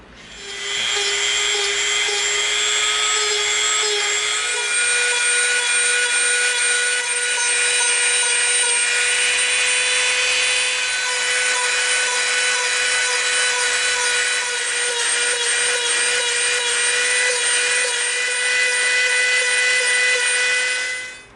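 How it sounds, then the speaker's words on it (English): A Dremel rotary tool grinds into thick EVA foam with a loud, steady high-pitched whine that runs unbroken for about twenty seconds, its pitch wavering slightly as the bit bears down. "we can get the Dremel out."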